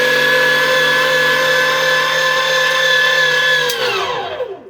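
A loud electric meat grinder grinding venison, a steady high motor whine with a tonal hum that holds for several seconds, then drops in pitch and winds down as it is switched off.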